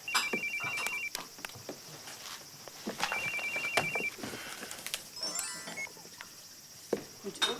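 A telephone rings in a quiet Japanese household, two short electronic ring bursts a couple of seconds apart amid faint room noise and small handling sounds, followed by a higher warbling tone.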